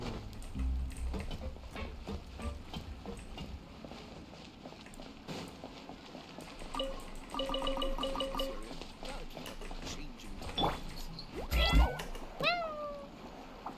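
Several cat meows in the video game Genshin Impact, rising and falling calls scattered over game footsteps, clip-clop taps and soft effects, the clearest meows coming near the end.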